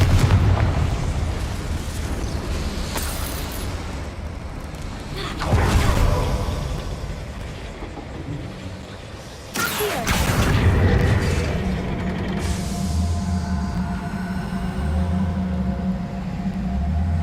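Fiery blasting-curse explosions from a Hogwarts wizarding video game, two heavy broadband bursts about four seconds apart amid a dense, rumbling game soundscape with lingering crackle.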